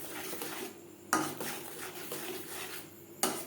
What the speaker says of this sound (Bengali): মশলার সাথে গুঁড়ো মশলা বেশ ভালো করে মিক্সড করে দেব